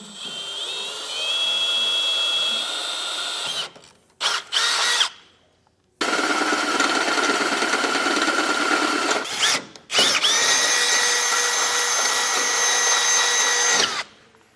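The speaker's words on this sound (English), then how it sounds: "with a smaller drill bit, start a pilot hole, and then we'll step up to a 1/2 inch drill bit" A power drill with a small bit drills a pilot hole on a 2021 Ford F-150, whirring loudly in several sustained bursts, pausing briefly between runs, with a steady high-pitched motor whine and no talking.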